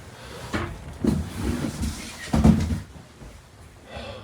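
Old wooden attic door in a century-old estate house being shifted aside, giving a few dull knocks and scraping thuds over four seconds, loudest near the middle, with no one talking.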